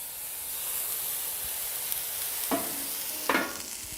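Water poured into a pan of cooking chili, producing a steady steamy sizzle with two sharp bursts of hissing near the end.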